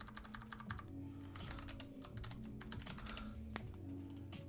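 Quick, uneven bursts of typing on a computer keyboard during a coding session, with close, crisp key clicks continuing steadily throughout and no talking.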